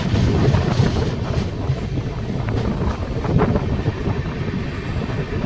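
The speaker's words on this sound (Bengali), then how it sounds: "সকাল প্রায় 11টার সময় ট্রেন ধীরে ধীরে আদ্রা জংশন এন্টার করছে" The Rupasi Bangla Express rolls slowly into Adra junction, a steady low rumble of carriages with wind noise over the microphone and a few faint clanks, no voices.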